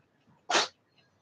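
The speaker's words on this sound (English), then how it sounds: "please pardon the sneezing cat over there" A cat gives a single sharp sneeze in an otherwise quiet room, brief and fairly close, with faint background hiss around it.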